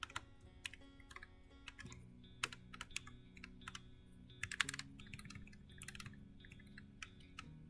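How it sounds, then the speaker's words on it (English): Typing on a split computer keyboard: rapid, irregular key clicks with occasional louder taps, close and clear over a low background hum, with no talking. "I forgot what it's like typing on a split keyboard here"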